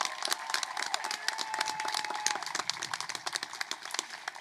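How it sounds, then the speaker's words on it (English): Faint, scattered clapping from an audience at the Vista Del Lago High School class of 2021 graduation ceremony, thin and uneven throughout with a soft tonal hum underneath. "One more round of applause for Andrea Cortez."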